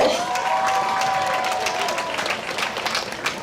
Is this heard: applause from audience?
yes